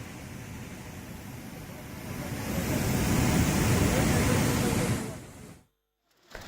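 Floodwater rushing after heavy rain, a loud broad roar that swells and holds steady before cutting out abruptly near the end, with wind-like noise blowing across the microphone.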